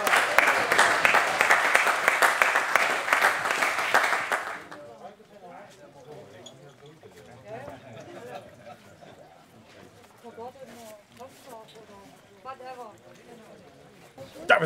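Applause for the winner of a sea fishing competition, a crowd clapping loudly for about four seconds and then stopping, followed by someone talking.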